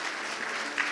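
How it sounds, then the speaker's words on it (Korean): Church congregation applauding together in a Korean church service, a brief, steady wash of clapping from many hands with no voices over it. "하나님께 영광의 박수와 우리 서로를 향해서 한번 축복하며 박수를 한번 올려드리겠습니다"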